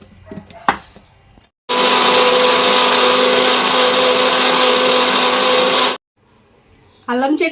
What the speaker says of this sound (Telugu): దీన్ని కూడా వేసుకుని ఒకసారి మిక్సీ వేసుకోవాలి